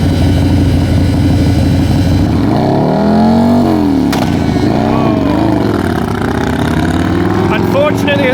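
A Harley-Davidson and a Honda motorcycle drag race at Perth Motorplex, engines loud and sustained with rising and falling revving pitch sweeps, under a commentator's voice over the track.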